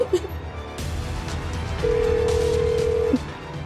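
A telephone call being placed at home, with a short beep followed by a long steady tone over a faint background murmur.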